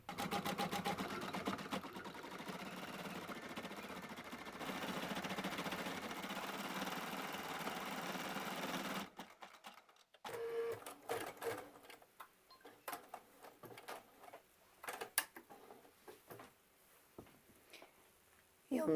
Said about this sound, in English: I'll sew all the rest of the little embroidery designs that decorate this case